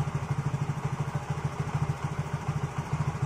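A motorcycle engine idles after a major service with a valve seal replacement, a low, steady, rhythmic putter running close and even throughout.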